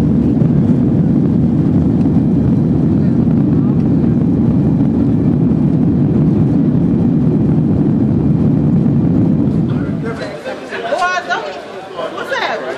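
Steady low roar of an airplane cabin in flight, a dense constant drone lasting about ten seconds before dropping off under nearby chatter and voices.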